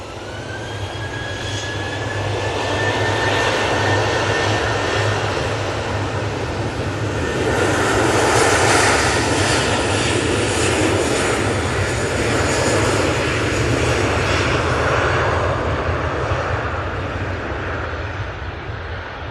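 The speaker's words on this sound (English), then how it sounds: "It's Ryanair going to Dublin." Ryanair jet airliner taking off for Dublin, a loud continuous engine roar that builds and swells through the middle with a faint rising whine, heard close and alone without voices.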